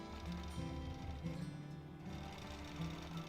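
A free motion quilting machine with a hopper foot and a ruler stitches slowly through a thick spot of fabric, giving a steady, close mechanical hum with a rhythmic whirring undertone and no voices.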